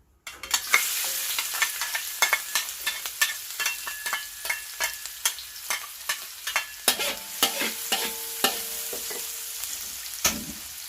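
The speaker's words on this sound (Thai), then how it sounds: "แล้วก็เอาหอมลงไปเจียวนะคะ" Shallots fry in a large wok over medium heat, a steady sizzle broken by repeated sharp scrapes and clinks of a spatula stirring, close and fairly loud, with no voices.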